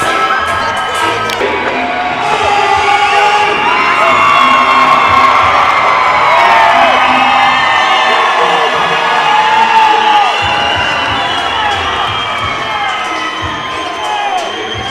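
A boxing arena crowd on its feet roaring and whooping as fighter Soto makes his way into the ring, a loud, steady wall of cheering that holds for the full fifteen seconds.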